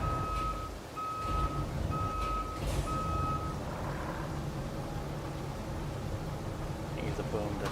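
Reversing beeps from a crane truck in the video game Roadcraft: four steady repeated tones, then a diesel engine rumbling and hissing on, with a person talking over it.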